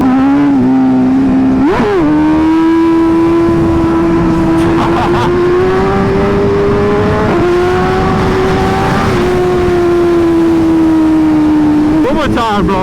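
A motorcycle engine drones loudly up close at a steady pitch, stepping up and down several times as the rider shifts gears and revs.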